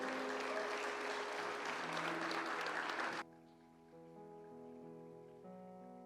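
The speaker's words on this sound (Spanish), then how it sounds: "un aplauso grande para la familia" A church congregation gives a big round of applause for a family, with full clapping for about three seconds that abruptly gives way to soft, sustained keyboard music.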